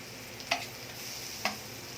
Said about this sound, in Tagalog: umpisa na natin ang paggisa. Ngayon gumamit ako ng butter guys, panggisa.